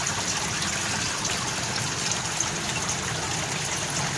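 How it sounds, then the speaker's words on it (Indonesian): Steady water pouring from a gutter outlet into a fish pond, a constant splashing trickle with even, unbroken intensity throughout. "perlu diperhatikan debit airnya itu jangan terlalu deras ya"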